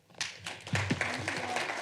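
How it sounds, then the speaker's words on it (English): A brief burst of audience applause follows a panel talk on art and hope in wartime Ukraine, with scattered claps rising quickly and continuing at moderate volume in a large room. "Let's give her a round of applause."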